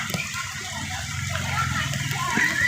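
Floodwater rushes along a flooded residential street in Montalban, Rizal during Typhoon Carina, a steady broad wash of flowing water with sloshing that swells slightly louder toward the end, with people talking nearby.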